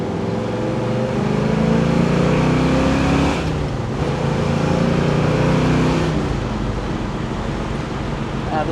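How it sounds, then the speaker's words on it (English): A 1971 Chevelle SS big block with a 4-speed pulls hard in second gear, its loud engine roar rising steadily in pitch and then dropping at the shift, close and continuous, with wind noise underneath. "We'll give you a little second gear pull here."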